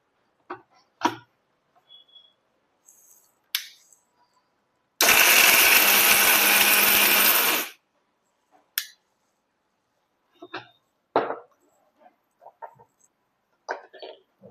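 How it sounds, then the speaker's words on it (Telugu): A mixer grinder whirs loudly for about three seconds in one burst, grinding cardamom and sugar into powder, set among quiet clicks and knocks of kitchen handling. "రెండు కలిపి మిక్సీ వేసుకోండి."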